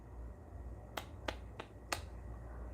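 Four sharp hand claps spaced roughly a third of a second apart, crisp and close over a faint low background hum.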